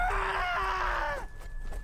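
A player screams and groans loudly and strained during a Battlefield 1 multiplayer match, one sustained harmonic cry lasting over a second before dropping away into quieter game noise.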